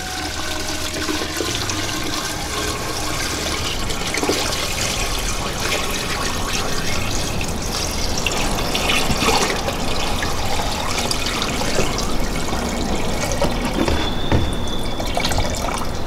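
Water poured steadily into a betta fish aquarium, a continuous splashing and trickling fill that stays close and fairly loud throughout, with no talk.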